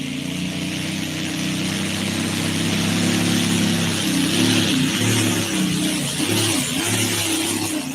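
A competition pulling tractor powered by Allison V-12 aircraft engines, the P-40 fighter type, roars loud and close in a steady, continuous run with its note wavering and shifting partway through.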